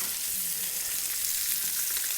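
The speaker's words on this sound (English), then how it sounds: "Now we have the heat in, the pan is sizzling." Salmon skin sizzles skin-side down in a hot frying pan with oil, a steady bright crackling hiss that continues evenly and fairly loud with no talk.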